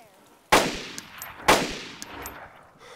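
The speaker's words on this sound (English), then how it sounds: "They're shooting at me." Gunfire in the video game DayZ during a fight near an airfield: two loud, sharp shots about a second apart, each trailing off in a brief echo, with faint ambient noise between them.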